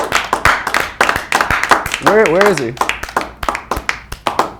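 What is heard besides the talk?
studio audience clapping for a guest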